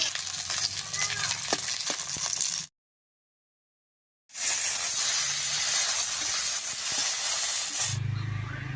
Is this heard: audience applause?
no